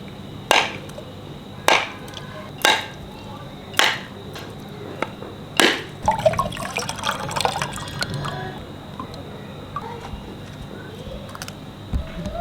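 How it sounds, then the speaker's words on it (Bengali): A water-soaked coconut is struck five times in a slow, evenly spaced series of sharp knocks, then splits open, followed by trickling liquid and light handling noises. "নারকেলটা কিছুক্ষণ জলে ডুবিয়ে রেখেছিলাম এবার ফাটিয়ে দেখছি"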